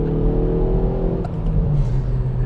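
Hyundai i30 N Performance hot hatch revving with rev matching, a loud close engine note that holds steady, briefly dips, then rises again in a quick throttle blip.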